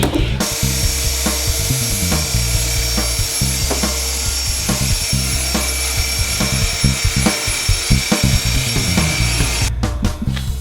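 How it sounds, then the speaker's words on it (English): Belt sander stripping vinyl from an arcade cabinet, a loud steady mechanical drone with a sharp start, rough rubbing scrapes and rhythmic grinding pulses as it works across the surface. "a belt sander because this vinyl just was not coming off"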